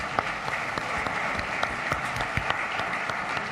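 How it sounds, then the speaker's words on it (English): Audience applause at a Microsoft Build Tour tech event in Helsinki as finalists are called up on stage: dense, steady clapping from a crowd, held at an even level throughout with no talk over it. "Big round of applause for the finalists."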